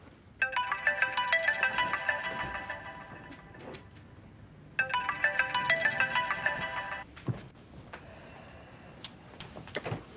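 A mobile phone rings at night with a bright electronic ringtone, sounding twice in long bursts with a pause between them. Faint room noises follow, and no one speaks.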